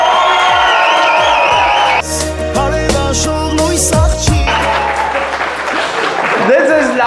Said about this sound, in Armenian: Հիմա Փեսայի կողմնա ծափեր տալիս